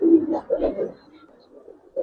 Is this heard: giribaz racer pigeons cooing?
yes